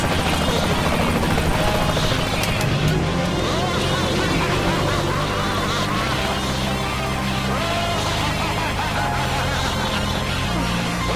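A helicopter's rotor thrums loudly and continuously in Saints Row: The Third Remastered while voices speak over it, with busy game sound effects layered in.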